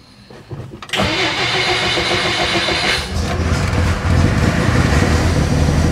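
A 1957 Plymouth two-door barn find, parked for over twenty years and running from a substitute fuel tank, cranks briefly, then catches abruptly and settles into a loud, close, uneven idle with a deeper rumble building.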